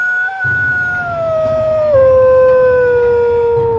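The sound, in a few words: woman imitating a she-wolf howl, neighborhood dogs joining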